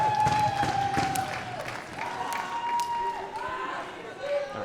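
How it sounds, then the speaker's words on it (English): Swiss spectators in an arena roaring and clapping after a tchoukball shot in a women's Italy versus Switzerland match, a broad steady crowd noise heard under a commentator's voice. "the Swiss crowd roaring their appreciation as a result"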